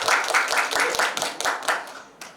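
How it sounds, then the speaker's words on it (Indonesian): A small group claps in a clear, fairly slow rhythm, sharp distinct hand strikes repeating roughly every quarter second and fading out near the end, close and loud. "Kita berikan tepuk tangan dulu"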